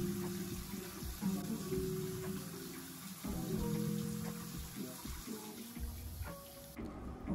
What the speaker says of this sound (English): I just rinse it with water.